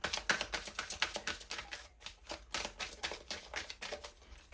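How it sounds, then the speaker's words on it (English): Tarot cards being shuffled close up, a fast run of crisp flicking and riffling clicks that keeps going in rhythmic bursts, with no talking. "Give that a shuffle."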